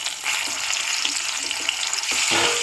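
Tomato dropped into hot oil with panch phoron for a mustard-poppy fish curry, bursting into a loud, close, continuous sizzle with crackling spatters throughout.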